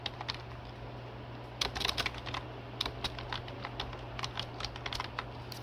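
Steady typing on a computer keyboard while entering text into an MS Word table, rapid clusters of crisp key clicks with brief pauses, close, over a constant low electrical hum.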